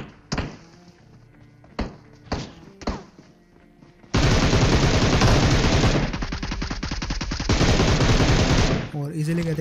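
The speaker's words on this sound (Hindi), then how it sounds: "जैसे उतरा यहाँ पे पीछे एक बॉट फायरिंग करता है" Gunfire from a PUBG Mobile bot: a few spaced single shots, then a long, loud burst of rapid automatic fire that dominates the rest of the clip.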